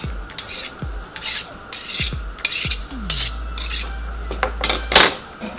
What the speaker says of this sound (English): So we're going to cut this small so that it can go in our mix.